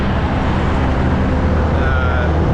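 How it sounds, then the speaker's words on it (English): Steady broadband roar of passing road traffic, with tire noise from cars and trucks driving by, loud and continuous throughout, with low engine rumble underneath and no talk. "there's all that white noise that gets generated from the tires, right, that are driving by"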